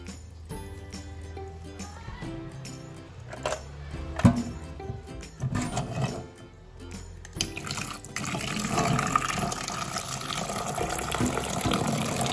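Water runs from a tap into a pot being filled for cooking quail eggs, a steady gushing pour that grows fuller and louder toward the end, with clinks and handling noises near the start.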